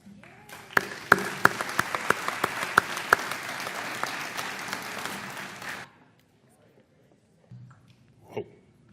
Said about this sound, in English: the members of the Arts Commission deserve a big round of applause